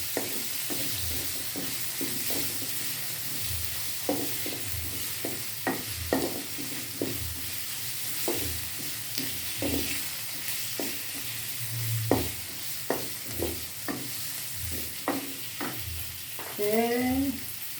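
Galangal, tomato, green chilies, bird's eye chilies and bay leaves fry in hot oil for papaya flower cooking, with a steady sizzle under repeated scraping stirs of a utensil against the pan, close and continuous.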